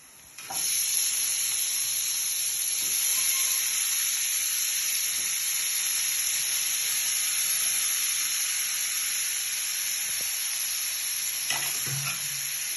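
Vegetables with a pinch of turmeric and salt sauté in a hot pan, giving a steady, close, bright sizzle and hiss with a few soft stirring knocks, no voices over it.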